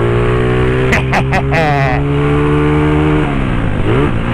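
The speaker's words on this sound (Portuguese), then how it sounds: "Aqueles roncos de moto fuçada mesmo" A modified Honda Today scooter engine roars close by in a steady drone, its pitch wavering and climbing near the end, while people talk over it.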